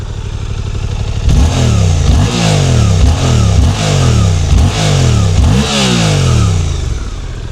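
A warmed-up Suzuki GSX-8R 776 cc parallel-twin sits in neutral and is blipped repeatedly, each rev rising sharply and falling back toward idle in a steady rhythm, loud and close, with no one talking.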